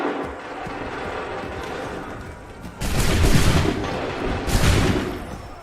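Musket volley fire from massed infantry in Assassin's Creed 3 at the Lexington defense, a sudden loud crackling burst of many shots followed by a second volley, with battlefield noise rolling underneath.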